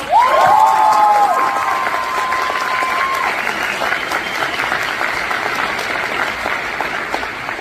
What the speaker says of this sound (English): Let's give them all a huge round of applause!